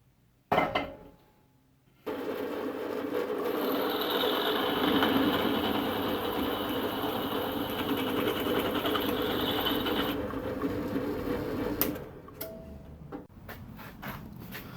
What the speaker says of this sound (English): We'll put a pilot drill through there.